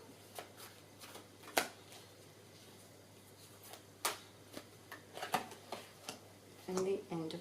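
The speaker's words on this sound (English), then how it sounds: "I'm using the Animal Tarot cards by Doreen and Radleigh Valentine" Animal Tarot cards being shuffled and handled in a quiet indoor room, giving soft riffling sweeps and scattered light card slaps and taps at close range, with no talking.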